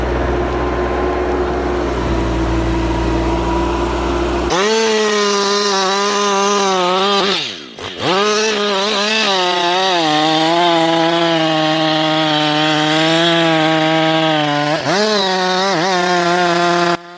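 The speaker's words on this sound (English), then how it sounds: "With the mighty Husqvarna chainsaw in hand, the operator begins the first deep cut." A Husqvarna chainsaw revs up loudly after a few seconds of low idling, then bites into a large tree trunk with a sustained, wavering whine that briefly dips and rises again.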